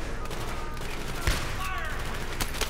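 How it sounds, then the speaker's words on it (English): Shotgun blasts ring out in a video game, with a couple of sharp, loud reports standing out above a busy bed of gunfire and game noise, while a voice is faintly present. "Shotgun. To the face."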